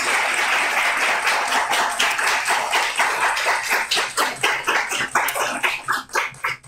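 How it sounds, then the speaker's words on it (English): Audience applause, a dense wash of clapping that thins out toward the end into scattered individual claps. "Another round of applause, please."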